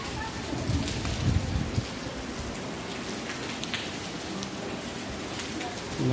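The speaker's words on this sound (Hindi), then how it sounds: "बारिश हो रही है, सब लोग बाहर निकल चुके हैं।" Rain falls steadily outside, a constant hiss of drops hitting surfaces, close and even, with no break.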